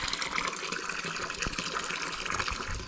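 Natural spring water flows from an ancient stone water source near a temple in a Palampur village, a steady splashing gush running continuously, close and moderately loud, with no talk.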